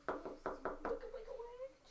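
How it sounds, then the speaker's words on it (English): Knuckles rap on a door, five quick firm knocks in an uneven rhythm, close and clear, followed by a brief low vocal sound trailing off. "There's no answer when you rap on the door."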